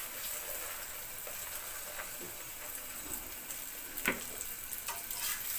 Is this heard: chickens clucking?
no